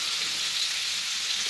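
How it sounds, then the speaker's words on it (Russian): Potatoes frying in a pan on a home stove, a steady, close hiss of sizzling oil running throughout with no talk. "у меня картошка жарится"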